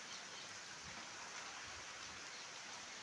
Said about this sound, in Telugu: గాలి తగ్గింది, వర్షం పెరిగింది